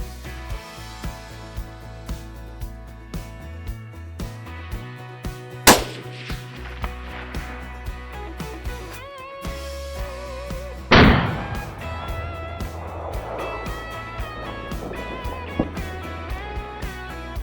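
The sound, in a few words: rifle shots, Tikka T3X .260 Remington, rabbit hunting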